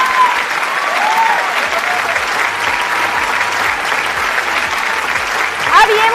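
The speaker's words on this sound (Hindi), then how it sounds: "लेकिन मैं तालियां बजवाना चाहूंगी अपने हस्बैंड के लिए" An audience claps steadily for the speaker's husband as he is called to the stage at a success-story talk, with dense, continuous clapping, cheers and calls mixed in, and a louder burst near the end.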